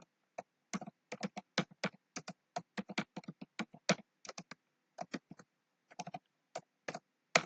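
Close, crisp keystrokes tap out a cd command on a computer keyboard in quick irregular clusters with short pauses between them.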